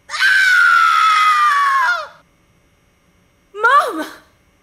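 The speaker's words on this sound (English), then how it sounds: "your mother still has the best scream in showbiz" A woman in the video game Film Fatale lets out one long, loud, high scream lasting about two seconds, then after a short silence a shorter gasping cry follows.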